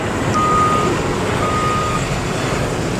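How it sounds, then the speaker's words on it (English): A truck's backup alarm beeps at a construction site for a water recycling facility, two evenly spaced tones over a steady rumble of engine and site noise, heard from a moderate distance with no talking. "we got a truck coming in here right now behind me"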